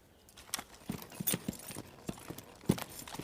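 A young stallion's hooves clip-clop in a corral in scattered, uneven steps, mostly faint, with one sharper, louder strike near the end.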